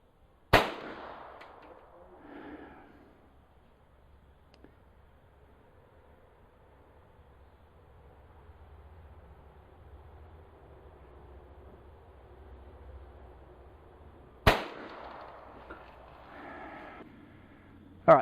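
A .22 LR firearm fires during an ammo test: two sharp, loud cracks about fourteen seconds apart, each followed by a brief echo, with a third shot starting right at the end and quiet outdoor ambience in between.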